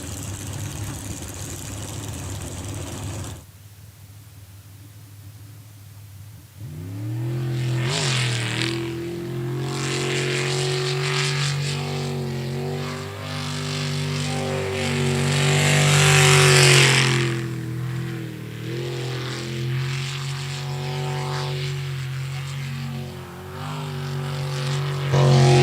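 A racing boat engine roars through a qualifying run in a pro racing series, starting with a steady drone, dropping briefly, then surging back loud and sustained with pitch rising and falling as it throttles through the course.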